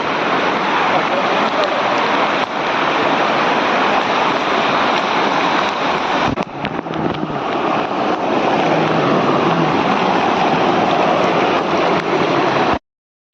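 The village waterfall at Korlai roars in a loud, continuous rush of falling water, close by and steady, with a brief dip midway before cutting off abruptly.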